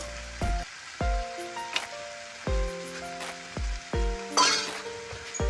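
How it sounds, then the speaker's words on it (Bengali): Cashews and raisins are stirred into a sugary mixture in a pan for a carrot sandesh, the spoon scraping and knocking in about five distinct strokes over a soft steady sizzle. "এটা আমি এবার একটু নাড়বো খানিকক্ষণ।"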